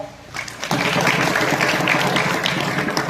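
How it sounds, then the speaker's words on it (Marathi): Applause from an audience at a children's kirtan gathering within a saint's procession, starting abruptly after a brief pause and continuing as dense, loud clapping that holds steady to the end. "आमच्या गुरुजींसाठी टाळ्या."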